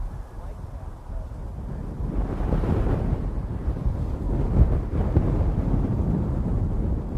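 Strong wind gusts sweep across a lake around a fishing boat on a grass mat, buffeting the microphone in a low roar that builds sharply after a calmer start and stays heavy.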